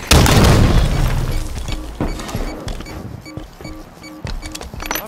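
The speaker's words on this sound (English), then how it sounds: "throwing grenade" A grenade explodes with a loud boom in the online multiplayer shooter Halo 5: Guardians, followed by a decaying rumble and scattered sharp in-game impacts and clicks.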